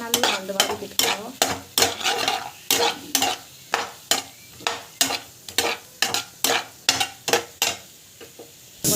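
Vegetables sautéing in a pan under a quick, regular run of sharp scraping strokes from a spatula over a low sizzle. The strokes are loud and close and keep a steady rhythm throughout.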